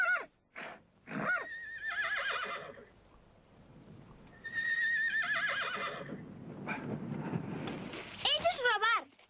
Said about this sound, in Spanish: Bonito caballo, ¿eh?